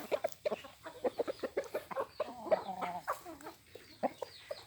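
Fighting-cock chickens cluck in a steady, rapid series of short calls, fairly close and moderately loud, with no talking.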